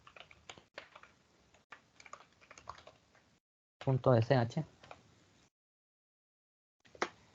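Someone types a command on a computer keyboard in a quiet, close string of key clicks. A short burst of talking breaks in, and one more key press follows after a pause.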